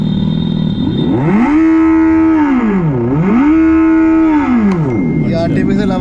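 Synthetic motor hum from a Revolt RV400 electric motorbike, switched on and standing still, rising and falling in two long, smooth tonal sweeps. It is loud and close, with no talk over it.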